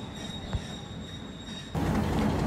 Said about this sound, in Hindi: 47 अब रहमान बाबा express Alipur Chatha railway station में मौजूद है